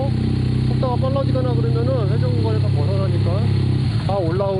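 A motorcycle climbing an underground parking garage ramp at a steady low speed of about 10 km/h with the clutch controlled, a loud continuous engine drone with rising and falling pitch that echoes under a voice speaking throughout.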